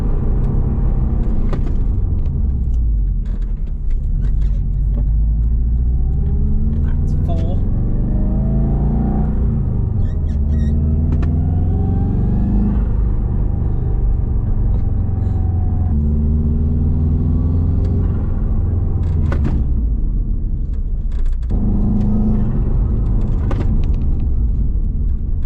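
A Subaru WRX with new pads, rotors, rebuilt calipers and braided brake lines repeatedly accelerates and slows on the road to bed in the brakes, its engine rising and falling through several loud, close revving sweeps over a steady cabin rumble.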